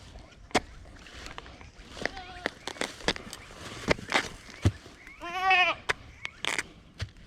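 Goats on a Jamaican farm, mixed breed and common goats, some crossed with Nubian, give a loud close bleat amid sharp knocks and clatter, with other bleats and faint talk around.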